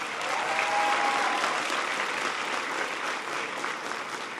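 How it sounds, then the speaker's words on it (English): A large audience at a high school in Brooklyn applauds a congressional delegation during a presidential speech, a steady, dense roar of clapping that holds evenly across the moment. "Give them a big round of applause"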